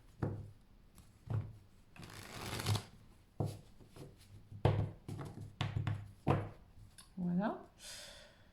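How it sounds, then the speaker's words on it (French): Oracle cards are shuffled repeatedly, with crisp riffling and sliding bursts of card noise and soft taps between them, fairly close and mixed with light breathy sounds. "Je vais bien remélanger pour tout le monde"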